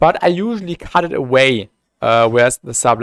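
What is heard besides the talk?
No everyday noise stands out behind the speech.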